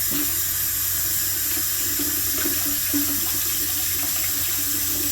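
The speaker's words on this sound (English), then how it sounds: "I am getting some warm water from the cup" Warm water runs steadily from a kitchen tap into a sink, a continuous close rushing stream with no pauses, heard on its own while homemade bun dough is being prepared.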